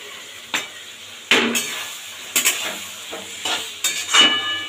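Chopped tomato tossed into a hot pan of chicken chow mein, with a low sizzle of frying and several sharp metal scrapes and clinks of a spatula against the pan, close by and with no talking.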